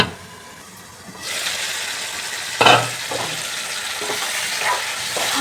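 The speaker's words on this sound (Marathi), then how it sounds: "मटण चांगलं परतवूया आपण. आता आपण गॅस फास्ट केलेला आहे." Mutton sautés in hot oil in a pan on a high gas flame, a loud sizzle that bursts in after a quiet start and keeps hissing and crackling steadily, with a sharper flare midway.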